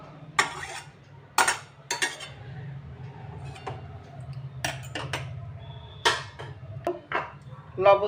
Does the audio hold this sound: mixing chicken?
yes